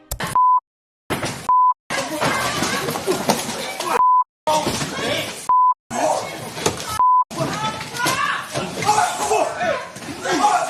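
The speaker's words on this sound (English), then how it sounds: "As alarms went off in the courtroom, people started to call for help." Courtroom alarm giving short, clear electronic beeps that repeat at intervals between bursts of loud, chaotic sound and voices as people call out.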